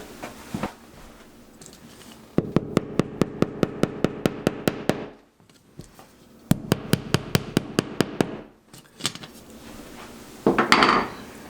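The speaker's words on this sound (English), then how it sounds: "I'm going to grab a little hammer and tap those real quick" Rapid, evenly spaced metallic taps from a small hammer during a thermostat installation, two long bursts of a dozen or more strikes each, close and sharp, separated by a short pause.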